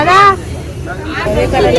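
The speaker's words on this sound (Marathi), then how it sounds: "मच्छीला जाम गर्दी आहे." Bustling crowd at a busy fish market, a close babble of overlapping voices and people talking, with general market noise behind it over a short stretch.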